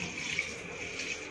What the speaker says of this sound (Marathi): त्यामध्ये पाणी घालूया.